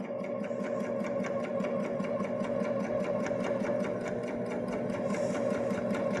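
A Baby Lock Jazz II sewing machine runs steadily, stitching a fabric strip through a single fold bias binder. Its needle hum is close, even and continuous, with no pause and no talking.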